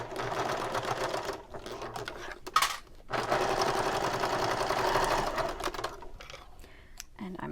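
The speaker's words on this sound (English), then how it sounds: "I am now going to stitch along all of these, top stitch" A sewing machine top stitching a convertible bag, running in a fast close mechanical whir that pauses briefly twice before resuming, with no talk.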